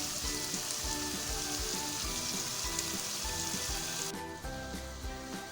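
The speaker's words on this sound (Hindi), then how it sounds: "अब हम मीडियम टू हाई फ्लेम पे ही इसको भूनेंगे अच्छे से, ताकि दही और टमाटर का पानी अच्छे से ड्राई हो जाए" Minced keema fries with chopped tomato and whisked curd over a medium-high flame, producing a continuous bubbling sizzle with soft crackles throughout, fairly quiet and steady, and no one talking.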